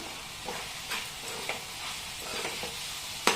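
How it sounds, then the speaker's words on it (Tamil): Mutton gravy masala with coriander powder sizzles in a pan while a spoon scrapes through it in rhythmic stirring strokes, ending on one louder clack. "இதோட சேர்த்து நல்லா மிக்ஸ் பண்ணிடலாம்."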